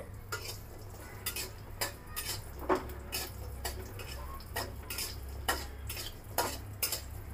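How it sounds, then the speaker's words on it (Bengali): Lentil dumplings (daler bori) fry in a pan over lowered gas, a soft low sizzle punctuated by regular metallic taps and scrapes of a spatula against the pan, close and fairly quiet. "ডালের বড়ি দেওয়ার পরে একটু ভাজতে হবে, আর গ্যাসটা একটু কমিয়ে দিতে হবে।"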